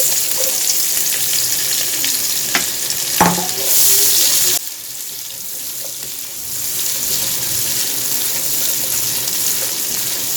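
A steady, loud sizzle of three or four medium onions frying in a hot pan for butter chicken, with a few clinks and a stir partway through before the hiss settles.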